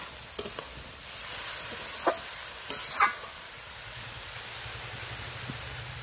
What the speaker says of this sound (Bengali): ঢাকা খুলবো আর নাড়তে থাকবো